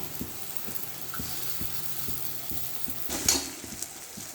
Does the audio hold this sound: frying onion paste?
yes